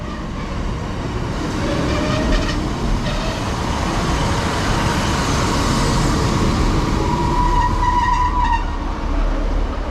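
Diesel multiple unit 156481 at Nunthorpe station, North Yorkshire, rumbling steadily and close for the whole stretch, with faint squeals and tonal whines rising near the end.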